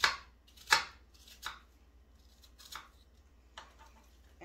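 A knife cubing apples on a cutting board, a few sharp, crisp chops spaced irregularly, close and fairly quiet with little else around them.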